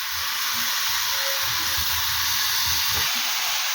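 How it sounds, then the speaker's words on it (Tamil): Chicken pieces, about 1 kg, go into a hot pan over sautéed onions for a dhaba-style chicken gravy, giving a steady loud hiss of sizzling with faint low bumps underneath and no talking. "வதங்கினதுக்கப்புறம் சிக்கன் போடணும்"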